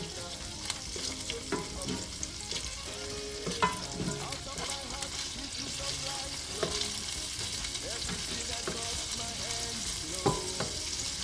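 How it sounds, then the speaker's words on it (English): Steady sizzling of shrimp frying in a pan, with occasional clinks and stirring scrapes over the constant hiss. "So I'm multitasking, frying the shrimp, doing this one."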